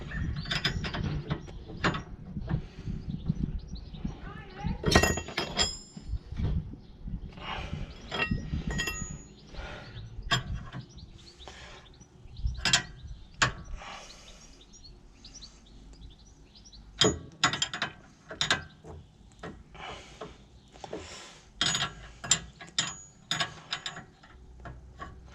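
Inner track rod end being tightened on a Volvo V70 (2000–2007), with repeated ratchet clicks and metallic clinks in uneven bursts, a few louder clangs, close up and without talk.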